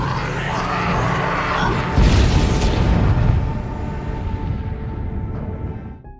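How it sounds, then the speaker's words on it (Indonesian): An explosion in a zombie film, a loud booming blast that bursts out mid-scene over a rumbling background, then decays into a fading roar and falls quiet. "dan untung saja Elias masih berhasil selamat dari ledakan barusan."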